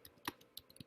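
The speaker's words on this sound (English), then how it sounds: "So I'm going to start typing." A few quick, light taps on a computer keyboard, irregular clicks close by and quiet, with no voice.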